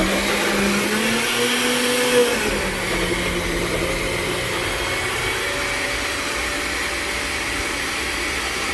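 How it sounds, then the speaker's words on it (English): A kitchen blender runs while making a smoothie, giving a steady, loud motor whir that holds for the whole stretch, its pitch dipping slightly early on before settling into an even drone, with no talking. "Let it blend."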